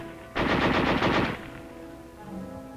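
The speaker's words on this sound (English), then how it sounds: "The sniper fire never let up." Sustained bursts of rapid automatic gunfire crack loudly in a WWII battle on a Pacific airfield held by Japanese forces, a dense stream for about a second before fading into a low rumbling aftermath.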